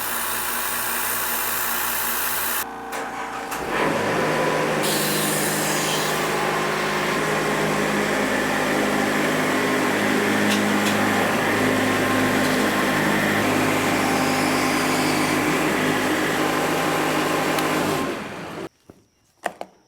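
An air compressor runs steadily at a sawmill, a loud continuous mechanical drone with a high hiss that holds nearly unchanged for most of the stretch, then cuts out near the end, leaving a few faint knocks.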